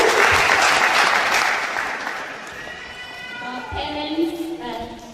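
Parents applauding at a Form One induction at Jomo Kenyatta Girls High School, a burst of crowd clapping that peaks early and tapers off over a few seconds, with a few voices rising faintly near the end.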